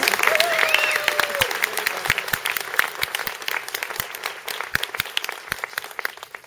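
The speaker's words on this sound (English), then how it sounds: "Yes, give her a big round of applause." An audience applauds an honoree at a professional award ceremony, steady clapping with sharp individual claps standing out, near and fairly loud, fading slightly toward the end.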